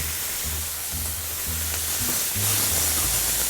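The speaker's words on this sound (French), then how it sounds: "on va mettre nos girolles un petit peu à poêler" Chanterelle mushrooms sizzle in a hot frying pan as they sauté, with a steady hiss and a few low knocks of the pan or utensil, fairly close.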